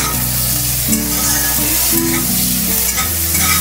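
Chopped onion and tomato fry in hot oil with a steady, close sizzle and crackle, while occasional stirring adds soft scraping over the constant hiss.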